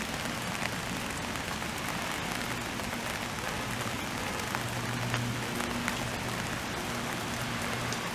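Steady rain falls on a summer cottage garden with hydrangeas, a dense, even hiss of drops pattering close by with no voices, unbroken for the whole stretch.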